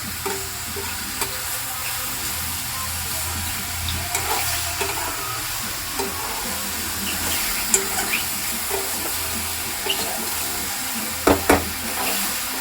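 Mushrooms seasoned with salt sizzle and fry in a pan for mushroom pepper dry, a constant close crackling hiss broken by the scrape and clatter of stirring, louder near the end.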